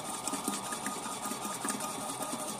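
A Milkbot mini milk dispenser runs its pump while dispensing a liter of milk, giving a steady, close mechanical whir with a fast rattling pulse that holds throughout, with no talking.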